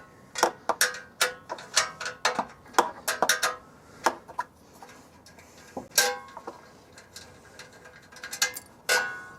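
A hand ratchet loosens a welded-on bolt holding the exhaust shield on a mini excavator, giving close, rapid clicking strokes in uneven bursts with short pauses between them.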